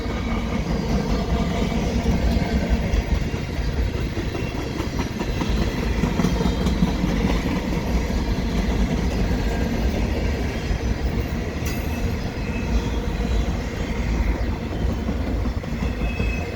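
A Canadian National freight train with potash hopper cars rolls steadily past at Dorval, its wheels clattering continuously and loud throughout, with occasional faint squeal and no voices.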